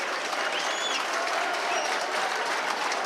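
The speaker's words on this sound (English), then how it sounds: "He gets a rousing applause here on his way from the field" Rugby league crowd at a Featherstone versus Widnes Vikings match applauds steadily as an injured player walks from the field, a dense, even wash of clapping that holds at a constant level throughout.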